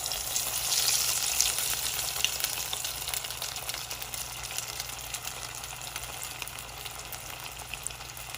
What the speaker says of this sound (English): when the oil is hot it fries pretty quickly